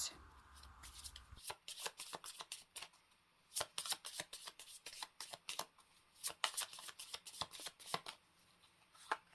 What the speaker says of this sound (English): Let me just give them a shuffle and I will lay them out.